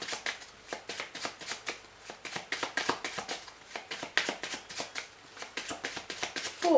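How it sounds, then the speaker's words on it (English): A deck of tarot cards is shuffled by hand in a rapid, continuous riffle of close, crisp flutters and taps, pausing briefly before resuming, with no talking. "Just going to give them a quick shuffle."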